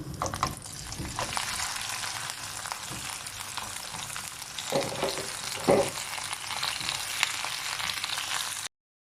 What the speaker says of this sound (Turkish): Tereyağı eridi. Üzerine peziyi ekliyorum.